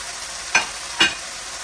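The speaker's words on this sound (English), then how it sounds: "So we're going to add in our shaved ribeye." Shaved ribeye frying in a pan with tender peppers and onions, a steady low sizzle with two short scraping stirs of the utensil.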